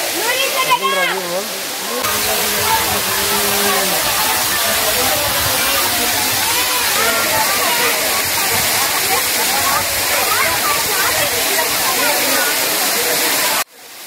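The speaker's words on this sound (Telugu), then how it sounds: "ఆ వాటర్ సౌండ్కి ఇక్కడ ఏదైనా మాట్లాడదామన్నా సరే మీకైతే అర్థం కాదు." Talakona waterfall in Andhra Pradesh roars loudly and constantly, a dense rushing wash of water, with voices and shouts faintly audible beneath it early on.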